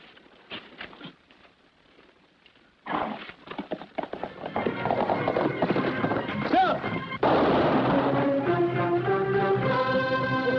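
Horse hooves clip-clopping in an old Western series, sharp irregular clops that start faint and sparse, then grow louder and busier, joined by talking and later by swelling music.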